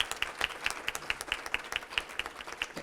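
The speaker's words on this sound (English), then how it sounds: "if we could please give them a round of applause" A small audience at a community meeting applauds first responders, police officers and firefighters, with sparse, fairly regular claps recurring at a moderate distance for a few seconds.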